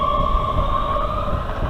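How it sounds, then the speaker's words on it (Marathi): Train pulling out of a station in heavy snow in Oslo, Norway, giving a steady, close, droning motor hum with a low rumble underneath, unbroken and without speech. "ही बघा ही ट्रेन आता वेस्लीकडे चाललेली आहे."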